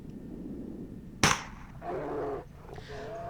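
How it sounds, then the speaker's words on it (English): A tranquilizer gun fires a single sharp crack at a polar bear in a video game, followed by a low growl or roar and a fainter rumble, with a quiet background hum. "I can put the needles on the tranquilizer. Now I kept the tranquilizer, aha, and shoot a bear."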